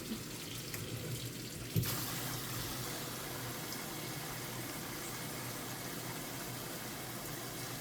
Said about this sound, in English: And turn the hot water on.